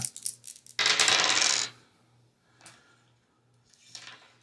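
Dice rolled in a tabletop boxing game clatter sharply onto a hard surface, a dense rattling burst of about a second, followed by a few fainter clicks as they settle, close and with no talking.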